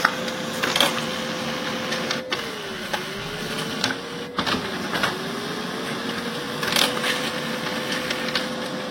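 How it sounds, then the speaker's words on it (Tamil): A Brother DCP-L2605DW laser printer scans the second side of a page, a steady close mechanical hum with a motor tone that dips and rises, plus a few clicks and thumps from the feed. "இப்போ அடுத்த சைடு வந்து ஸ்கேன் பண்ணிட்டு இருக்கு."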